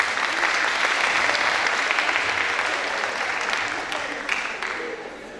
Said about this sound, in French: Sous vos applaudissements, accueillir avec moi l'équipe du club de musique